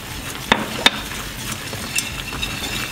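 Creamed spinach being stirred and mixed in a pan, a soft wet scraping under a low sizzle, with two sharp utensil clinks against the pan near the start and lighter taps later, close and fairly quiet.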